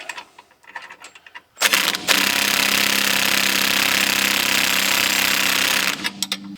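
A power tool, likely an impact wrench, drives a lock nut onto a disc brake caliper bracket during a power disc brake upgrade on a 1967 Pontiac Catalina, a loud sustained rattling hammer for several seconds after quieter handling noises.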